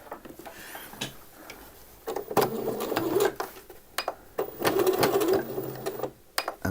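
A sewing machine stitches the hem of drawstring shorts close to the edge of the fold, running in bursts of rapid rattling stitches separated by short pauses and clicks, close up and without talk.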